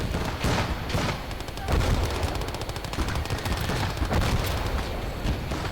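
Mortar and gunfire in the video game Call to Arms - Gates of Hell: a loud, dense fusillade of rapid shots with heavy thumps scattered through it, carrying on without pause under faint commentary.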